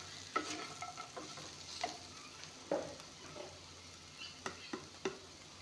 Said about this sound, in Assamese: এতিয়া এইখিনি ভাজি ল'ম।